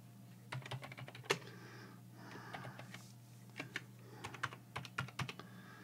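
Contact information is typed on a computer keyboard, with quick, irregular clusters of close, crisp key clicks and brief pauses across several seconds. Nobody speaks.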